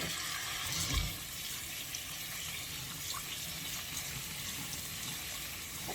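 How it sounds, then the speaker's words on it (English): Cold tap water runs steadily over canned black beans being rinsed in a kitchen sink, a continuous close hiss of flowing water with a brief louder splash near the start and no talking. "I'm going to rinse it with cold water."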